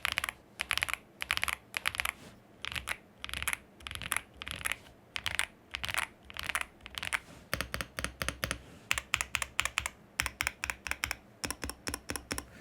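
Typing on a Yunzii AL80 mechanical keyboard fitted with Cocoa Cream V2 linear switches: a steady run of close, crisp keystroke clacks, bursts of rapid strokes with brief pauses, heard alone with no voices.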